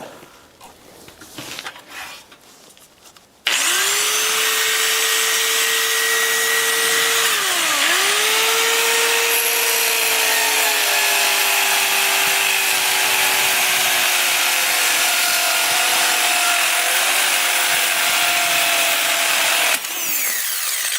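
A power tool cuts metal to prepare pieces for a flux-core welder test, a loud continuous grinding whine close up that holds for about sixteen seconds with a brief pitch dip partway through, after a few seconds of quieter handling noise.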